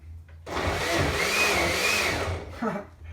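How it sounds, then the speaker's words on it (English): Kitchen blender running on its low setting for about two seconds, a loud steady whirring motor drone that starts abruptly and then cuts off, followed by a brief clunk. "I'm gonna push the button, and the button is this is a blender, it's not like one of those juicers, but it's a good one"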